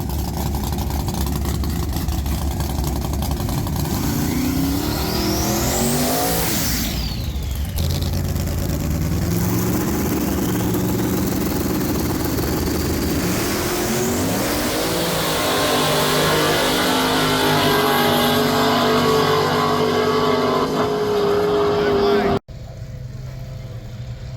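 Small-tire drag racing cars launching down the strip at a drag racing event: loud engine roar and revving sweeping past, with rising and falling pitch, steady and close for over twenty seconds before cutting abruptly to quieter noise.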